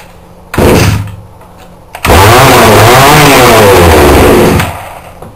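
A small two-stroke shop engine starts with a brief sputter, then catches and runs loudly and steadily for a few seconds before cutting off.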